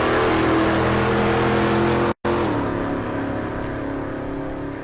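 Drag racing at Ennis, Texas with a 3rd Gen Camaro in the right lane and a Chevy Luv in the left, loud sustained engine roar that cuts out abruptly midway, then continues slightly fainter.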